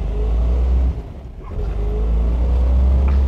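A 1965 Chevrolet Corvette with a 396 engine rumbles loud and close, its deep exhaust note briefly dropping before swelling back up in a steady, throaty drone.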